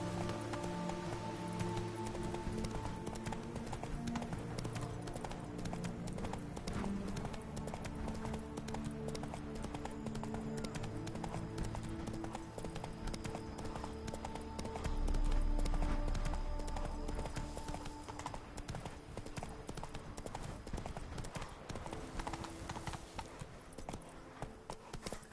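Roach, the horse from The Witcher 3: Blood and Wine, gallops with a dense, continuous patter of hooves over sustained game music, swelling briefly midway.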